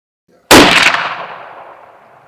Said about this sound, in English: I'm gonna take a neck shot. Hopefully I can drop him right here.